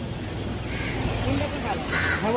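A crow caws a few times near a food offering at a Hindu Chaturmas ritual, against a noisy background with people talking.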